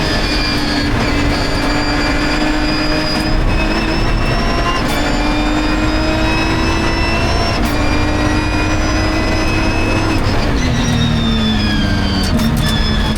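Race cars at full speed in a Britcar race at Oulton Park, including a Cupra, a steady loud engine roar with rising and falling pitch as cars pass, continuous and without speech.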